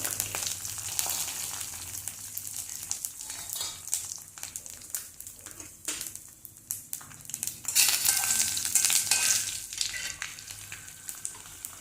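Dried chillies, curry leaves and fennel seeds fry in hot oil for a cluster beans stir-fry, a crackling, spitting sizzle that swells louder near the end, with occasional clinks of a utensil.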